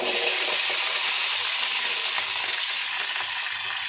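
Shallots and dried red chillies fry in coconut oil for a village-style chicken dish, giving a loud, steady, close crackling sizzle that runs unbroken without any voices.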